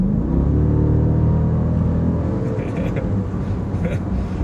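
The V8 engine of a Jeep SRT Grand Cherokee SUV rumbles deep and loud from close by, holding a steady growl, with voices faintly audible over it.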